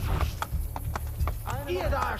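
Horse hooves in the video game Assassin's Creed Brotherhood, a quick rhythmic clip-clop of galloping hooves running under someone talking over the game sound.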